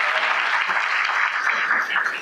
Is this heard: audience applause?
yes